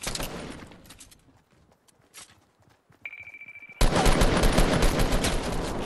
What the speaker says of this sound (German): Die Schüsse sind zu heftig